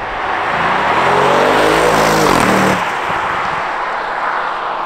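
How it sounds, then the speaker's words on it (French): A 560 hp Audi RS6 C7 pulls hard under acceleration, engine note rising loudly until a sharp crack on the gear shift cuts it off, then a quieter lower drone follows. "On entend le crack au passage de rapport qui est assez sympa."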